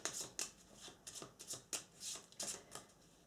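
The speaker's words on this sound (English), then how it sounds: "Then we shuffle the deck again." Board game cards from a deck for Eldritch Horror with the Forsaken Lore expansion being shuffled, a series of crisp riffling bursts in quick irregular succession, close and clear with no talking.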